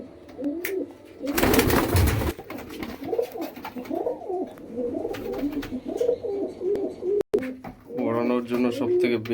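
Madras pigeons coo repeatedly in rolling, rhythmic calls close by, with a burst of noise early on and someone talking between and over the cooing.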